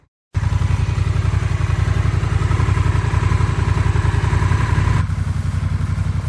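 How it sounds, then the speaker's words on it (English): Honda Rebel 1100 DCT motorcycle idling up close, its exhaust giving a steady, loud low rumble with rapid even pulses, the tone shifting slightly near the end. "Wanted to give you an opportunity to hear the exhaust on each of these bikes."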